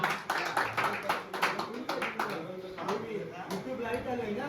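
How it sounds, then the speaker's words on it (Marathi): Audience applause at a cricket league auction and trophy ceremony: scattered hand claps ripple through a crowd under an amplified announcer's steady talk. "खरोखर टाळ्या वाजवा त्याच्यासाठी देखील"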